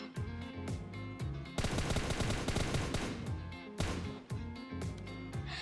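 Automatic gunfire from an M416 and UZI in PUBG Mobile: loud, rapid bursts of rattling shots, close and sustained, with a dense stretch of continuous fire in the middle and brief gaps between volleys.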